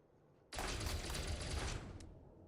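Rapid, continuous ship weapon fire in the space game Elite Dangerous, a loud dense burst that starts abruptly and runs for about a second and a half, then trails off.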